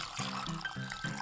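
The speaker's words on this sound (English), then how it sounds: "Now we can pour our blended and strained pulp in." Blended, strained watermelon juice poured into a hollowed-out watermelon fitted with a tap, a steady liquid stream with a few surges and gurgles, close and fairly loud, with no talking.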